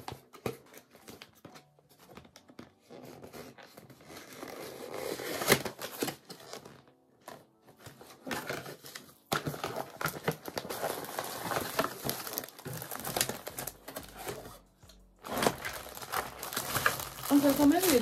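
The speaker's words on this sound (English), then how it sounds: "I really don't want to rip the box." Packaging crinkles and rustles as a box holding a lace wig is opened, with irregular bursts of crumpling and scraping and someone talking between them.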